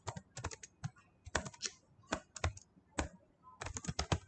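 Quick, uneven bursts of clicking keystrokes on a computer keyboard, some clustered and some isolated, sounding close and fairly quiet with short pauses between runs.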